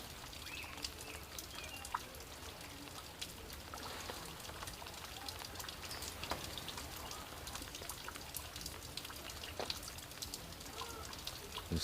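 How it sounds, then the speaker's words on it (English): Residual raindrops patter and drip from trees overhead after rain outdoors in Baltimore, a steady scattered tapping with occasional sharper drops, faint and continuous. "We're getting some residual drops from the trees over us, so you're still going to hear a little bit of that"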